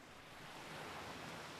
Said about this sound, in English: Wind caresses an ocean dune, gently blowing sand across its rippled form